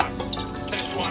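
Water poured into a sauce mixture of sugar and vinegar for a homemade Szechuan sauce, giving a close, continuous splashing and dripping that runs steadily for about a second.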